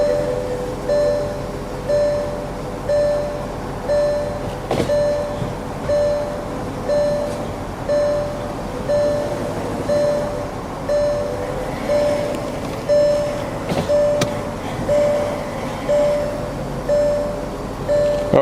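A Porsche Cayenne or VW Touareg idles in park during a transmission fluid change, a low steady hum beneath a repeating dashboard warning chime pulsing at an even rhythm, with no talk.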